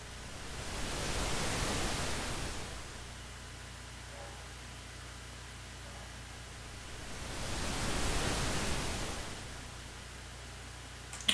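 Synthesized ocean waves built in Sound Forge: a soft, hissing wash of noise that swells and recedes twice in a slow rhythm, fairly quiet and with no voices.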